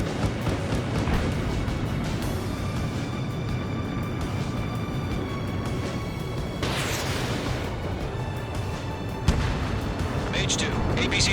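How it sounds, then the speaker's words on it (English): Artillery and gunfire rumble continuously through a combat mission in Ace Combat 7 as radar vehicles come under attack, with a sharp burst near the end; radio voices talk over the barrage. "The radar vehicles are under fire!"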